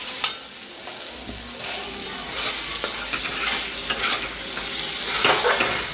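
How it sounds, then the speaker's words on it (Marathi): Cashew curry masala roasts in a pan with a steady sizzle and frying hiss, while a spatula stirs and scrapes with intermittent clicks, close up and fairly loud. "आपल्याला एकसारखं ह्याला 5 ते 7 सेकंद असं थोडं भाजून घ्यायचं"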